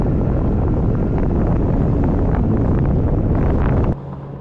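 Heavy wind buffeting a hood-mounted camera on a car during a test drive, a loud constant roar with low rumble that drops off abruptly near the end.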